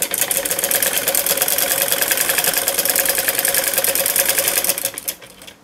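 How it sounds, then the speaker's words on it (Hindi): A sewing machine stitches a seam on palazzo pants with a fast, steady mechanical chatter, close and continuous for about five seconds before slowing and stopping. "ये देखिए इस तरह से मैं इसके ऊपर सिलाई लगा लेती हूँ, इसके साइड में भी हाफ इंच का मार्जिन देते हुए।"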